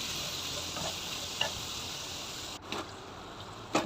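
Tofu and fishball frying together in oil in a pan, a steady close sizzle with a few brief clinks and stirring scrapes near the end.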